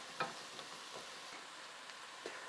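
Spices sizzle in a hot pan for homemade sloppy joes with a steady, close frying hiss. A few soft scraping clicks of stirring come through on top of it.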